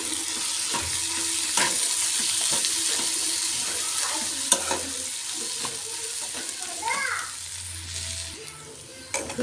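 A spiced mixture with Maggi masala is stirred in a hot pan, giving steady sizzling and frying with repeated scraping strokes of a spoon, close and continuous.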